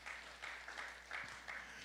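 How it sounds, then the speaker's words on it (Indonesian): Church congregation clapping in praise, a faint, steady wash of applause from a crowd heard at a distance in a large room. "Tepuk tangan yang meriah bagi Tuhan Yesus."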